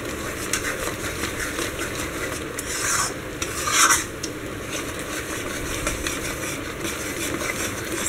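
A spoon scrapes and rasps steadily through thick Rajasthani mohanthal sweet mixture in a kadai, with a few louder scrapes partway through over a low background hum.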